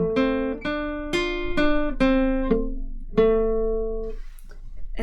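A guitar picks a simple tune on its lower strings: about eight distinct plucked notes, each struck cleanly and left to ring, close and fairly loud, with the last note fading out.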